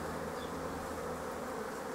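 Honey bees swarm around the frames of an open hive, their buzzing a dense, steady drone that stays close and unbroken throughout.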